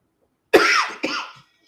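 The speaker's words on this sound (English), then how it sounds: "I told you I was going to try to do this without coughing." A person coughs twice in quick succession, loud and close, followed by silence.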